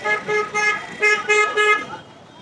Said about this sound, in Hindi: मैं अगर चुप हो जाता हूँ तो हॉर्न की ही आवाज़ आएगी,